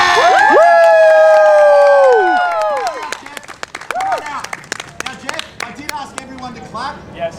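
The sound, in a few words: audience clapping and cheering for a volunteer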